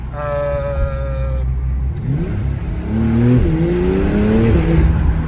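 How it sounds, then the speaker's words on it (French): A Porsche C36 engine with a PDK gearbox revs hard close by. Its droning note climbs in pitch as it accelerates, surging loudly over a few seconds. "ils ont réussi à préserver le son Porsche"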